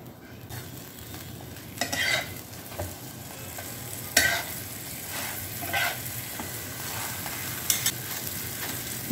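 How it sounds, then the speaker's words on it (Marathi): Chicken wrap rolls fry in a little butter on a griddle, giving a steady close sizzle broken by a few louder scrapes and stirring clatters. "आता हे रोल मी तव्यावर थोडंसं बटर टाकून भाजून घेत आहे।"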